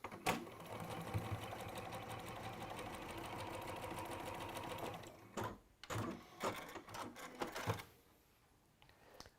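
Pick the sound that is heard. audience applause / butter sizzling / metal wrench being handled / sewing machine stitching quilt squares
sewing machine stitching quilt squares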